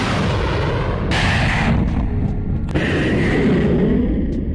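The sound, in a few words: Patriot missile launch sound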